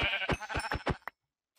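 Minecraft sheep bleating in a rapid run of five or six short, nasal calls, fairly close and loud, ending abruptly in silence with no talk.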